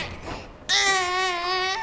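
A baby cries in a House of the Dragon scene, a rocked infant breaking from soft fussy murmurs into a sudden loud, sustained wail that holds steady to the end.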